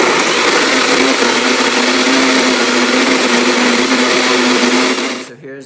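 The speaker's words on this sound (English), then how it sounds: "And then we're simply just gonna blend this down." A blender runs continuously on basil, celery and tomato sauce, a loud, steady high whir with a sustained motor tone that cuts off abruptly at the end.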